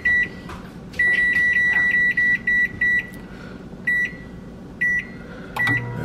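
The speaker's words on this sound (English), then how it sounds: "This is a little low power microwave, 700 watts." A small 700-watt low-power microwave oven beeps in a quick, irregular series of short electronic tones, with a few longer pauses between groups. A low running hum sits steadily underneath, and no one talks.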